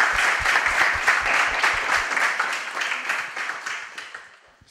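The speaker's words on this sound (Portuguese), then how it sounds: "eu gostaria de pedir uma salva de palmas para os oradores" An audience at an astronomy day event gives the speakers a round of applause: close, energetic clapping with distinct claps early on, then gradually fading to quiet.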